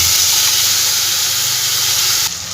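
Ground spice paste dropped into hot oil for masala begun gives a loud, close, hissing sizzle that holds steady and then drops off sharply near the end.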